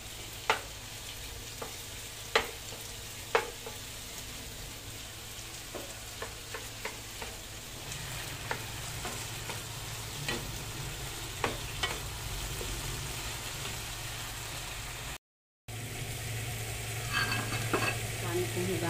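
Sliced potatoes frying in a pan for a torta, a soft steady sizzle with occasional sharp clicks and scrapes of stirring, quiet and close, with no talk.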